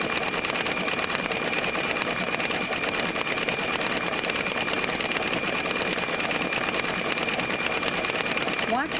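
A Brother Quattro II embroidery machine runs a running stitch, a steady rapid mechanical chatter that continues close and loud for the whole stretch with little variation.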